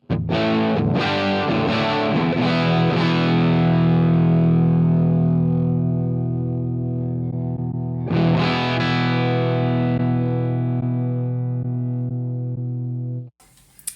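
Distorted electric guitar through a Marshall amp model on an HX Stomp, input impedance at 230k, plays strummed chords that ring out, then another chord sustains and is cut off abruptly near the end.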